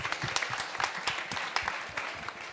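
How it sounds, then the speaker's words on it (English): Audience applause fills a conference hall at a farming and soil-health event, a dense, steady patter of many hands clapping with sharper individual claps standing out, moderately loud throughout. "can we just give Esther a round of applause?"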